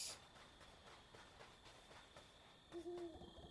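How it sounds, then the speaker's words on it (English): Owl hoot in the video game Death's Door, a brief low call near the end over quiet ambient game sound. "And I can already hear the owl"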